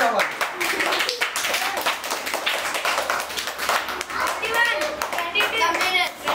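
Children clap during a timed birthday party game indoors, with steady, dense rhythmic clapping running throughout, mixed with kids' voices and chatter over it.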